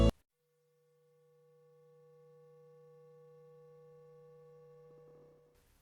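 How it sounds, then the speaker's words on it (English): A steady electronic test tone sounds alone, fading in softly and holding a level, faint pure-toned hum for several seconds before cutting off. "sound that only kids can hear will play in 3, 2, 1"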